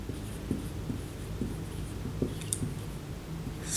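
Pen strokes scratch across paper while a math solution is written out by hand, soft rhythmic scrapes and taps close by over a steady background hiss.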